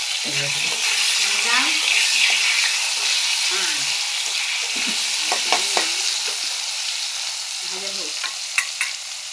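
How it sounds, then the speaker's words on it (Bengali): Cut potatoes and papaya fry in a pan in a home kitchen, giving a steady sizzle with stirring scrapes and occasional clinks. A faint voice speaks briefly now and then beneath the frying. "এবার এগুলোকে আমি ভেজে নেবো"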